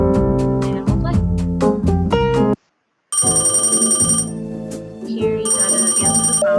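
A phone rings in the video game Exit Strategy, a loud electronic ringtone sounding in rapid repeating pulses, breaking off briefly, then returning as a harsher, buzzing tone.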